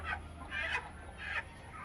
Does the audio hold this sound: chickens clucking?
yes